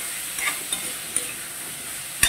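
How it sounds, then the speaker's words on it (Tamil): Mixed vegetables for a gravy are tossed in a pan with a soft, steady sizzle and a few light scrapes and clinks, ending in a sharper knock, all faint and without speech. "நல்லா டாஸ் பண்ணி எடுத்துக்கிறேன்"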